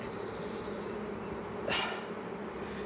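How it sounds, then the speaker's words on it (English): A dense, steady buzzing of many honeybees hums close by at an open hive during a colony split, with one louder bee passing near briefly. "That's a lot of bees."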